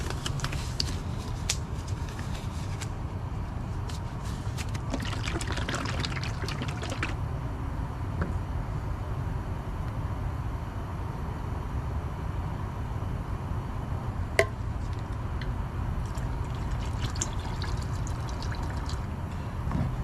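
Automotive base paint being poured and mixed 1-to-1 for an EF sedan engine bay job, a low steady liquid wash with faint trickling and a few light taps, no voices.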